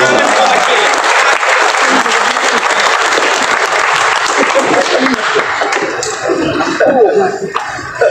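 Loud, sustained applause from an audience at a mayoral handover ceremony in Makassar, thick clapping that thins toward the end as an amplified voice and a cough come through.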